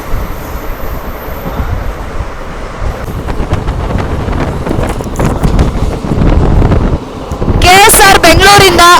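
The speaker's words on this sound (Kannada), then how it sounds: "ಗಾಳಿ ಅಂತೂ ನುಗ್ತಾ ಇದೆ, ಫೋನ್ ಹಿಡಿಯೋಕ್ಕೂ ಆಗ್ತಿಲ್ಲ ಅಷ್ಟು ಗಾಳಿ." Strong wind rushes in at the window of a fast-moving train, a loud roaring buffet over the clatter of the carriage, with a brief burst of talking near the end.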